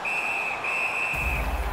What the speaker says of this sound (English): decides to just cover it up and get the whistle